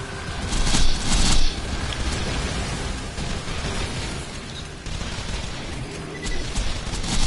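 Grenade blast and gunfire in the video game Borderlands 2, a loud burst of explosions followed by sustained crackling gunfire and pops with a dense, noisy background.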